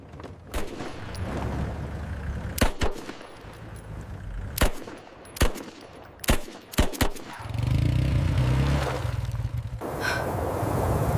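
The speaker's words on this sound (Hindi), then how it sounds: "इसके टायरों पे गोली चला।" Several sharp gunshots fired at a vehicle's tyres crack out at irregular intervals over a rumbling engine-like background, ending with a continuous noisy roar.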